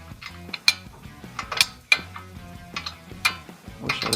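A 21 mm wrench working a loaded, tensioned bolt on a Ford Bronco suspension, giving repeated metallic clicks and clanks in an uneven rhythm, close up, with no talking.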